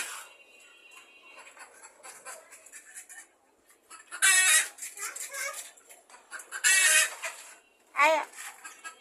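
Chickens cluck in short, sharp bursts, a few louder squawks breaking out over quieter background clucking.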